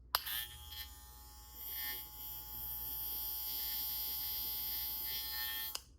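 A Style Craft Saber II hair clipper buzzes steadily at close range, a constant electric hum with a few faint handling knocks at the start and end.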